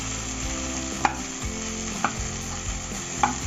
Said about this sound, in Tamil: தக்காளியை போட்டு நல்லா வதக்கலாம்.